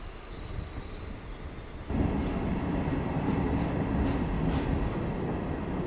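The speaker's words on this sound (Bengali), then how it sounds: "আমাদের ট্রেন ছাড়ছে বিষ্ণুপুর জাংশনের 3 নম্বর প্ল্যাটফর্ম থেকে।" A local passenger train runs along a single-line track out of Bishnupur Junction, a continuous rumbling roll of wheels on rails that grows louder partway through, heard from aboard with faint higher squeals over the din.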